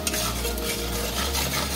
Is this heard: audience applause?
no